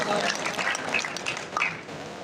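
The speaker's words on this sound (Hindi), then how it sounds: "एक बार अपने लिए तालियां बजा लें" Audience applause from a crowd at a PTI labour convention in Malir, Karachi, a brief dense wash of many hands clapping together, fairly steady and moderately loud before fading slightly at the end.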